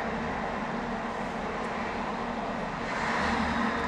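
A passing train rumbles as a steady, broad roar that swells slightly toward the end, heard alone without talk.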